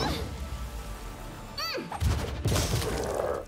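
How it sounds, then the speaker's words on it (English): A magic missile spell is cast in the video game Pathfinder Kingmaker, a short shimmering magical whoosh followed by a pair of bright impact bursts over steady game background sound. "I think I use magic missiles."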